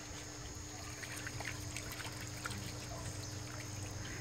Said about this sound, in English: If you take it vigorously, wash it here.